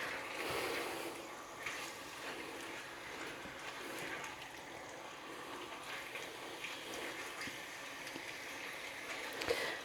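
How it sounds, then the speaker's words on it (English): Chicken sizzles in a hot pan for creamy garlic chicken pasta, a steady, fairly faint hissing crackle throughout with a few small pops and no voices. "now it's starting to sizzle"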